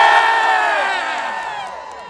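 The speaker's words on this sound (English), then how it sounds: "Cheer for me if you are from the Northeast" A large outdoor crowd at a political protest rally at the Capitol cheers, whoops and shouts together, loud at first and slowly fading over about two seconds.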